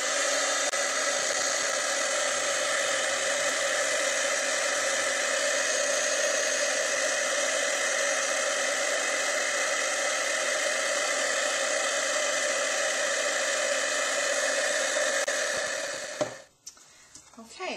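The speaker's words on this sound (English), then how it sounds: "I'm going to heat set this, so it's going to get loud for a second." A heat embossing tool blows loudly and steadily while setting ink on a handmade bat card, a continuous whirring hiss that cuts off abruptly near the end.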